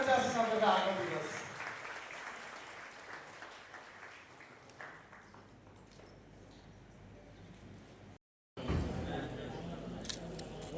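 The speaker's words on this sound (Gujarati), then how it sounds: "તાળી પાડશો મિત્રો, તાળી મારતા જાશો બધા" Audience applause at a student felicitation and notebook distribution held by an education and charitable trust: loud clapping at the start fades to a scattered patter, breaks off briefly, then swells again near the end.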